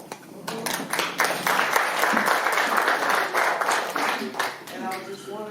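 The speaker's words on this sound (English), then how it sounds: "I think you should give her a round of applause." At a city community meeting, people applaud an organizer, sharp clapping that swells quickly and continues, with voices audible under the clapping.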